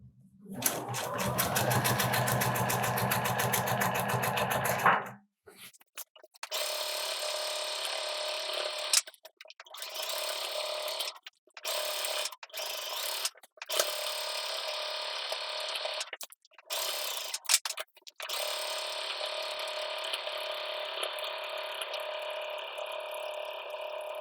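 A sewing machine stitches fabric and then backstitches: a steady fast mechanical whir runs for several seconds, then stops and restarts in short bursts separated by brief pauses, close and clear with no talk.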